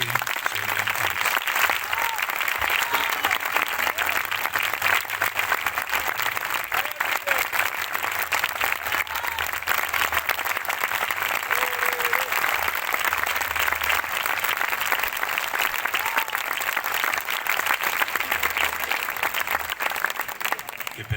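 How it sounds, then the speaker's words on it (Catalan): Loud, sustained applause from a large crowd for a local wind band at an outdoor summer concert in Albalat dels Sorells, clapping dense and steady throughout with faint voices mixed in. "Un fortíssim aplaudiment a Enrique, Sònia, Alex."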